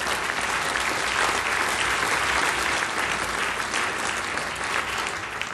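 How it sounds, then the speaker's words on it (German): Steady audience applause from a cabaret crowd at a German political comedy show, dense and sustained throughout at an even level, tapering slightly at the very end. "das verdient Applaus"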